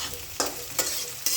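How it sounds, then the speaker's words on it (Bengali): Fried onions with sprinkled cumin sizzling in a pan, a steady hiss broken by three sharp stirring scrapes, close up with no voices. "পেঁয়াজটা ভাজা হয়ে গেছে, আমি একটু জিরা ছিটে দেবো"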